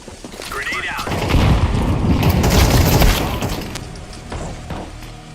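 A grenade blast followed by a roaring swell of gunfire in a tactical shooter game, building to a loud rumbling peak mid-clip and then tapering off, with a voice talking over the action.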